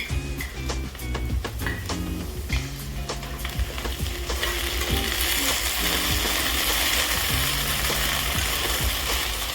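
Paneer chilli mixture sautéing in a pan, a steady loud sizzle and fry with scattered clanks of a spatula stirring, the frying hiss swelling and filling out after the first few seconds, no talking.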